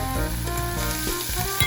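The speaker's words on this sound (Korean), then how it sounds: "달궈진 냄비에 차돌을 넣고 달달 볶아준 다음" Thinly sliced beef brisket sizzles and crackles as it is stir-fried in a hot pot, a steady dense frying hiss running throughout with no talk.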